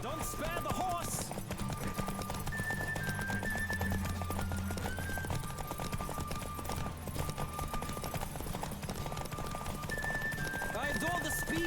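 A horse galloping in The Witcher 3, with rapid, even hoofbeats running throughout under background music and occasional voices.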